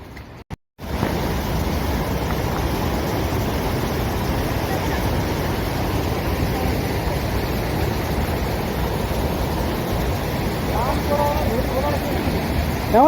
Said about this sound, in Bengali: ঝর্ণা ওয়াটারফলস দেখতে হবে